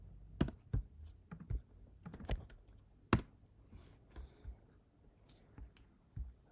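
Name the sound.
typing on a computer keyboard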